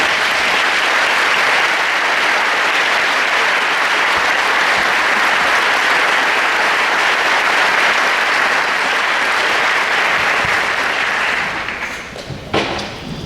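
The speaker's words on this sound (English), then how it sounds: "and give them a round of applause." A graduation crowd at Rittman High School's 2017 ceremony applauds the standing school staff, steady, dense clapping filling a large hall for over ten seconds before thinning into a few scattered claps and thumps at the end.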